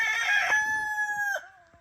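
A Plymouth Rock rooster crows once, a long drawn-out call that holds steady, then breaks off and trails into a short fading tail. Close and fairly loud.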